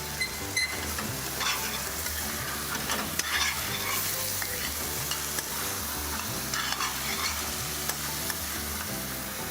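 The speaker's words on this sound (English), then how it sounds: "And we'll sear the mutton." Mutton sears in a pan in a cooking-show kitchen studio, a steady sizzle broken by repeated scraping and stirring clatter over nearly ten seconds, with no talk.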